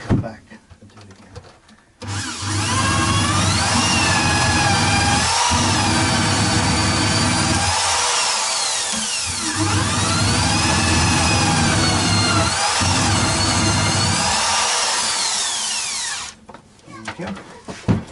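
A power drill bores into the floor with a loud, sustained high whine for about fourteen seconds, briefly dipping twice as the bit bites, close and with no talk over it.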